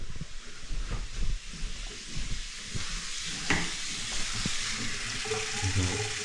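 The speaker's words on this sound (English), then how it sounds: "I'm going to go turn the water on." Water runs from a tap fed by a tankless water heater in a cabin, a steady hissing rush with light splashing and a few clicks and knocks, moderately close.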